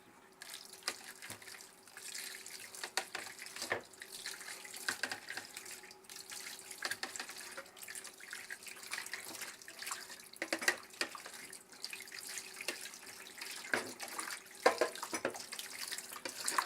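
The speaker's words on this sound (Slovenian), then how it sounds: "splaknem" Running tap water pours steadily over a plate as it is rinsed in a kitchen sink, the stream broken by irregular splashes and clinks as the dish shifts under the flow.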